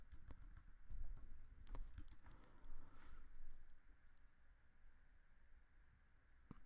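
Fingers type on a computer keyboard while writing Angular code, a steady run of quick, close key clicks with a few louder taps near the start, no voices.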